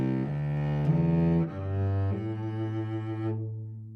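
Cello bowing a slow sequence of sustained notes that sketch a healthy yield curve, the steady tones stepping from one pitch to the next before fading out, played alone and clear.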